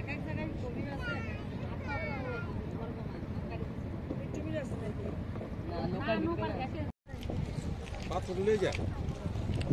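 A river boat moves on the water at Jaflong, its steady low rumble and wind buffeting the microphone heard under continuous nearby talk throughout.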